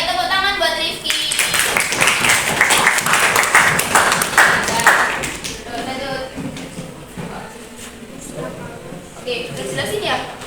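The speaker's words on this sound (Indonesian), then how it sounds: "Ayo tepuk tangan buat Rifki." Students clapping in a classroom during a lesson, a burst of applause for about five seconds that then fades, with talking continuing underneath and afterward.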